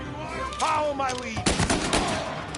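Gunfire in Mafia Definitive Edition during a chase, a flurry of sharp shots in the second half following a brief shouted voice, loud and close.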